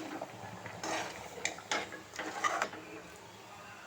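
Sugar being stirred into poha payasam in a pot, with a few sharp clinks and scrapes of a spoon against the metal, quiet and close.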